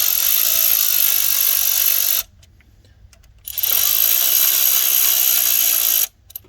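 A torque wrench ratchets a lug nut tight in two long, loud, steady bursts of close mechanical clicking, separated by a short quiet pause, with a brief restart at the end.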